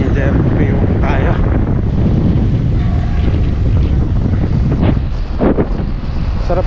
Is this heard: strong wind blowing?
yes